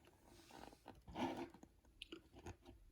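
A cartoon character bites into a crunchy couloulou medal, a few close, crisp crunches and chewing sounds, soft and quiet with no talking.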